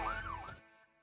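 An emergency vehicle siren during a lights-and-sirens driving exercise for recruits gives one brief wailing sweep that rises and falls, then cuts off abruptly and leaves near silence.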